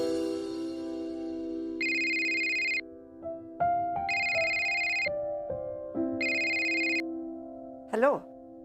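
A mobile phone ringtone sounds nearby as a bright, repeating electronic melody in three pulsed bursts. It ends with a short rising chirp, over a quiet indoor background.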